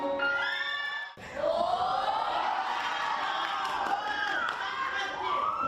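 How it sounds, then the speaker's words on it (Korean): A crowd cheers and screams loudly for a dance team's stage performance at a live Chuncheon event, with sustained whoops and shouts filling the space after a brief lull. "환호가 너무 커서"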